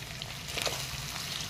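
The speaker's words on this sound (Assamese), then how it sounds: "এতিয়া এইখিনি খুব ভালকৈ লৰাই ভাজি ল'ম" Minced ginger, garlic, green chili and onion sizzle steadily in hot oil in a pan, a close continuous frying hiss with a brief stir around the middle, no voices.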